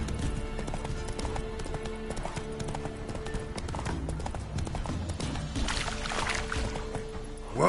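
Roach, the horse from The Witcher 3 video game, clops along at a steady pace for several seconds, hoofbeats fairly close amid a wash of ambient game noise, ending in a brief louder burst.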